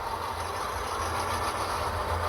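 Steady low hum and faint mechanical whir of an Athearn GP40 model locomotive creeping forward at low DCC throttle, its sound decoder playing a quiet idling diesel with a sustained drone and no distinct clicks.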